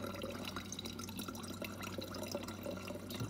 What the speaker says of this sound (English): So I'm flushing it out.